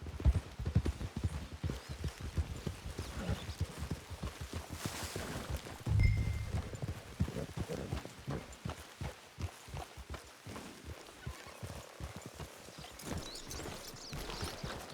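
Horse hooves clip-clop at a steady walking rhythm in Red Dead Online, near and moderately loud, with a brief louder thump partway through and some faint ambient game sound around them.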